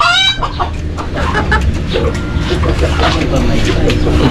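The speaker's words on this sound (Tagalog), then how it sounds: "Ang alaga ni Kabida, oh. Sisiw niya, bantam." Bantam hen and her small chicks clucking and peeping at close range, a steady busy patter of short calls over a constant low background hum and rustle.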